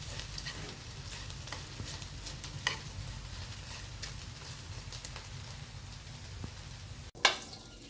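Tocino cooking in hot oil in a pan, giving a steady low crackling sizzle with scattered faint pops and a sharper clatter near the end, no voices.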